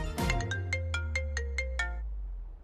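A mobile phone rings during a call back in a TV drama: a loud electronic ringtone of about eight evenly spaced bright tones over a low sustained note, ending abruptly.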